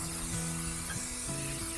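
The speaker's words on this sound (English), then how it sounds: "Spray it real good. Spray the back of the Fibo pad." Spray applied to the back of a Fibo wall panel during installation, a steady continuous hiss running close and unbroken throughout, with a faint tonal hum beneath it.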